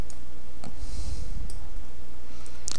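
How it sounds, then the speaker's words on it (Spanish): A computer mouse clicks crisply several times in a quiet room, including a quick double-click near the end, with short sharp ticks separated by silence and no talking. "Le damos doble clic"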